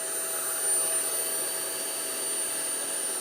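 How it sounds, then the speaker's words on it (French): A Jimmy JV63 vacuum cleaner runs at minimum power while cleaning along skirting boards, with a steady, close whooshing whine and a thin high-pitched tone that holds constant throughout. "vérifier que l'aspirateur est bien en mesure de nettoyer les plinthes"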